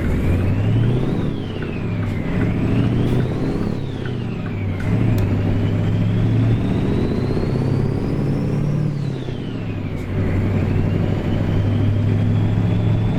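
Mack truck in American Truck Simulator, a deep steady diesel drone with engine pitch rising and falling through several gear changes, loud and continuous with no talk.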